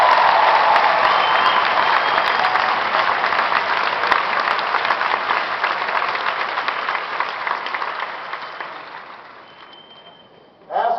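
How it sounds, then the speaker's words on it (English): A large crowd applauds loudly and steadily, the clapping slowly thinning and fading toward the end. "Give her a big round of applause."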